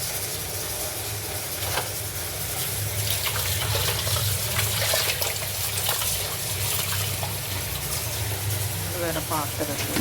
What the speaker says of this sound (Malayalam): രണ്ട് 6 പ്രാവശ്യം കഴുകണം നന്നായിട്ട്.